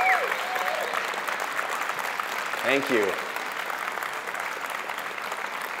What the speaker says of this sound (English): let's give them a round of applause because they are amazing